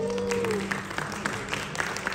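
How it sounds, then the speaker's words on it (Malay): Scattered applause from a small press-conference audience at a hotel, faint and sparse individual claps following a brief tone, with some voices in the background. "Berikan tepukan kepada Sunway Putra Hotel."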